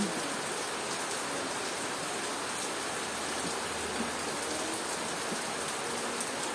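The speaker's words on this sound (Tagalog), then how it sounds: "Ay, ulan na naman tayo." Heavy rain falling without pause, a constant broad patter and hiss of drops striking surfaces nearby, loud and unbroken with nobody talking.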